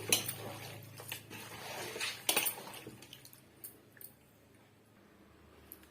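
Chicken pieces tossed with masala in a bowl for chicken 65, giving quiet, scattered clinks of spoon on bowl and soft squishy stirring, with a few sharper knocks early and fading to sparse taps.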